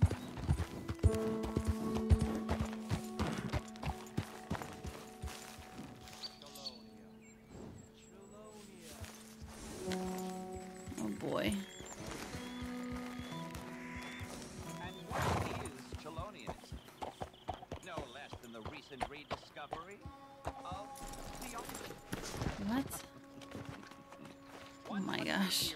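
Horse hooves clip-clop through a Red Dead Redemption 2 game scene, with an occasional neigh among busy music and effects while a person talks over much of it.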